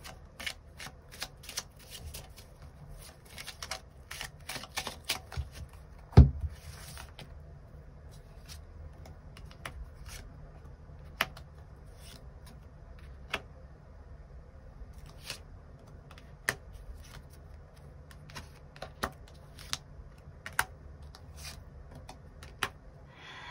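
Tarot cards shuffled and drawn by hand, a quiet run of soft riffling with scattered sharp card snaps and taps, close and faint, with no one talking.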